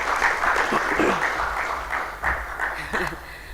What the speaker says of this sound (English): Please give her a hand of applause as she comes up.